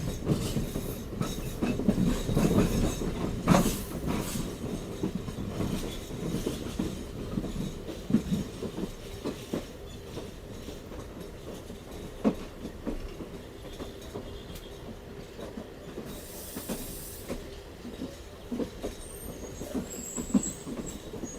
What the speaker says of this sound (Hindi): कोटरी जंक्शन पे एंटर कर रही है शालीमार एक्सप्रेस